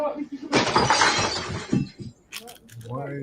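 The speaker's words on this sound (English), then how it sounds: "Why are you smashing her place up?" Glass smashes as a home is wrecked: a loud, sustained crash of breaking glass, followed by sharp clinks of falling shards and a brief voice at the end.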